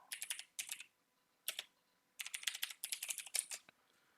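Computer keyboard typing a title into a PowerPoint slide during an ITQ exam exercise: close, crisp bursts of rapid keystrokes separated by short pauses, with no voices.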